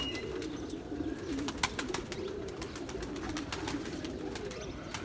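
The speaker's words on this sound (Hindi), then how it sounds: "ये जी देखें माशाल्लाह सारे पिजन्स हैं, दाना वगैरह खा रहे हैं।" Pakistani high-flying pigeons pecking at grain, low soft cooing that keeps going at moderate distance, with sharp scattered pecks and taps mixed in, no voices.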